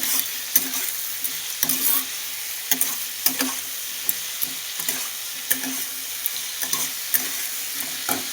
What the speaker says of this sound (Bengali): এবার আবার একটুখানি নেড়ে নিচ্ছি, আলুটাকে খানিকক্ষণ নেড়ে নেব